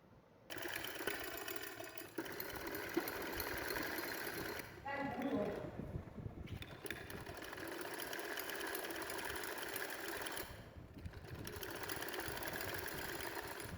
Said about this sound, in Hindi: अब हम इस पे सिलाई लगाएंगे।